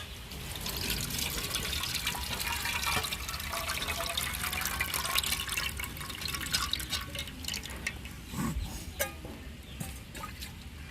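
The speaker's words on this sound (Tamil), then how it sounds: "ஐம்பது கிராம் புளி கரைச்சி வச்சுருக்கோம் வடிகட்டிக்கிறோங்க" Tamarind soaked and dissolved in water is poured through a strainer for dried-fish curry, a steady trickle and splash of liquid with dripping and light clinks, fairly close.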